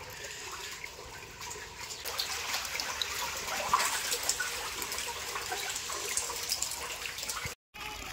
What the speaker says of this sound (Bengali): এই দেখুন ডিপে জল যাচ্ছে এদিকে